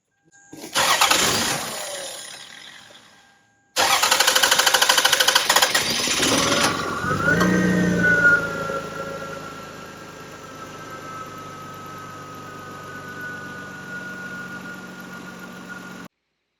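A Lexus ES300 engine cranks, stalls, then cranks again and catches with a loud roar, revving briefly before settling into a steady idle.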